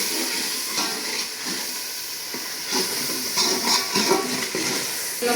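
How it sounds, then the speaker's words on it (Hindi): Water splashed into frying masala for arbi curry hisses and sizzles steadily in the pan, a broad, continuous crackling sizzle with brief louder bursts partway through. "अब 2 बूंद में पानी से डालूंगी इसके अंदर।"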